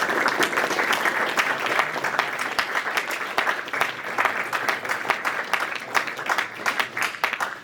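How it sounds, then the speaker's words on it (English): An audience at an apprenticeship panel at the Ellesmere Port campus applauds employers and faculty: dense, steady clapping from many hands that holds at an even level for several seconds. "give a round of applause to our employers and actually our amazing"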